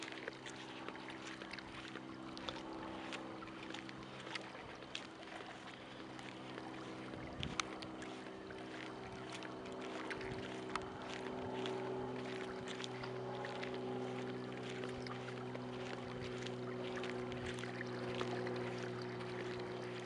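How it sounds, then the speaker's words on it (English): A remote-controlled Seafloor Systems EchoBoat survey boat runs along a shoreline at about 2 knots, a faint steady motor hum with tonal whine and light water noise, distant and continuous. "here's the echo boat, it's logging"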